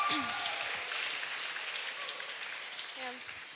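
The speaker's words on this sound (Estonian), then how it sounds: "Võib plaksutada." Audience applause at a live talk session, a dense patter of clapping heard fairly close and continuing throughout, with a voice briefly audible at the start and again near the end.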